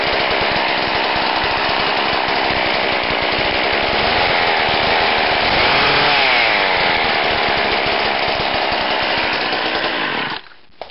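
A petrol hedge trimmer engine with its muffler removed revs hard and raspy, loud and close, holding a high buzzing whine for about ten seconds before cutting off abruptly.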